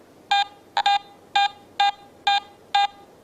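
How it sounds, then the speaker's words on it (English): A Garrett AT Gold metal detector sounds its medium tone for a silver coin: six short, clean electronic beeps in a steady rhythm, one doubled, loud and close with quiet gaps between. "still a strong, clean, medium tone"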